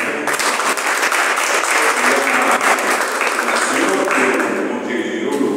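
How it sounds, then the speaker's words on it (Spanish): Audience applause at a poetry anthology presentation, a sustained, dense round of clapping filling the hall for several seconds before easing slightly at the end. "Otro aplauso para ella."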